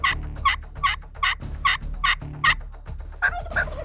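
A wild turkey in Colorado gobbles repeatedly during a spring hunt, about seven loud, rattling bursts in a steady rhythm close by, followed by a couple of softer calls at the end, with no talking.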